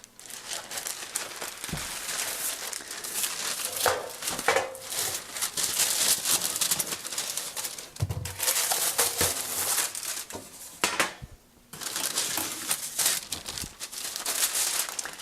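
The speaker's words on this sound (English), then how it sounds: "So here I'm cutting the parchment paper" Crinkling and rustling of parchment paper with sharp cutting and tearing sounds, close by and continuous, with a few brief pauses.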